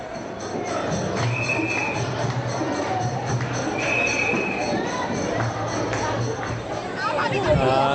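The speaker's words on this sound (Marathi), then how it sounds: "आता आपण रमण रेतीमध्ये आलो आहे आणि भरपूर सारी गर्दी आहे" A large, dense crowd at Raman Reti in Mathura-Vrindavan: a steady wash of murmuring voices and footsteps, with scattered nearby talk and occasional high calls rising above the constant hubbub.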